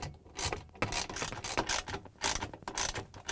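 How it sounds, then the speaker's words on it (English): A ratchet wrench tightening 10mm bolts on a Samsung refrigerator ice maker fill tube assembly, quick bursts of close clicking ratchet strokes repeating in an uneven rhythm, with no talk. "using the 10mm second wrench, I'm going to tighten it, turning it clockwise"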